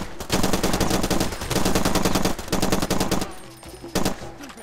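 Rapid automatic gunfire in the video game Far Cry 2, loud close bursts of repeated shots separated by short pauses, with a couple of single shots at the end.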